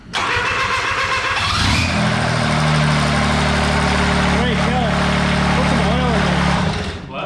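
A turbocharged diesel lawn mower engine cranks briefly, then catches and settles into a loud, steady, low idle, running close up for several seconds before cutting off, with voices talking over it.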